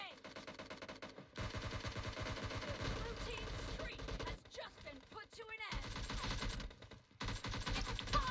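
Rapid automatic gunfire in the mobile battle royale PUBG Mobile, dense bursts of rattling shots in several stretches separated by brief gaps, loud and close, with a voice talking over parts.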